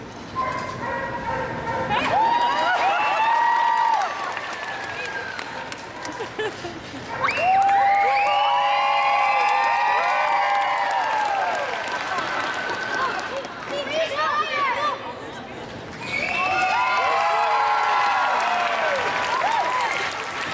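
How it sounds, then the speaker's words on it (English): An audience at a street fire-eating performance in Toronto, Ontario bursts into applause and cheers in three rising waves, with whoops and shouts over the clapping and a performer's voice between the bursts. "Give me a big round of applause right when it goes in my mouth"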